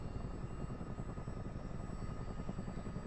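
A Chinook helicopter's rotors drone steadily in MSFS 2024, a dense low, throbbing whir that holds at the same level throughout with no talk.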